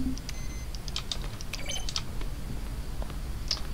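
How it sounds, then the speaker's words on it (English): Computer button sounds from The Stanley Parable, each a keyboard keystroke blended with a synthesized tone, ticking in quick irregular clicks with faint bright tones over a low steady hum. "Each sound is a mix of a keyboard stroke and a synthesized tone."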